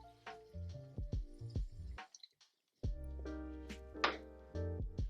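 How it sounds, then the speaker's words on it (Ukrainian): Water is added in small splashes and drips to a sour cream pancake filling for chicken and mushroom crepes. The splashes land close by in a quick, uneven series, with a brief silent gap partway through. "Трошки додамо води."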